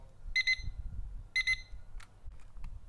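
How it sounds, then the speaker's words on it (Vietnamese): A PYXIS BC173K LCD desk alarm clock rings its timer alarm: two bursts of rapid, loud, shrill electronic beeps about a second apart, followed by faint clicks as the button is handled. "bấm vào đây giữ thì nó sẽ kêu chuông này đây là chuông hẹn giờ đấy cũng khá là to"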